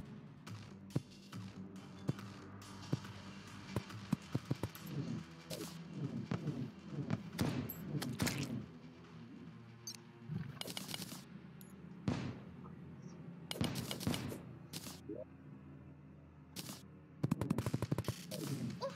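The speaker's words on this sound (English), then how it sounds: "this here pulse pistol is pretty damn effective against the wall of flesh" Rapid bursts of pulse pistol fire from Terraria's Calamity mod during a Master Death Mode fight against the Wall of Flesh, sharp repeated shots crackling over a dense, busy game soundtrack.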